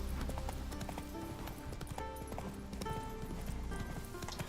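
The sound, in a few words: horse Roach trotting, clip-clop, in video game Witcher 3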